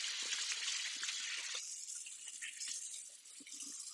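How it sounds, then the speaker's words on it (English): Tap water streams steadily into a kitchen sink during handwashing, a broad continuous hiss close by that thins slightly partway through, with small splashes and clatters beneath. "Wash our hands again."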